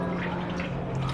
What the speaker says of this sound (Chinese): 稍微把它的水分给它沥干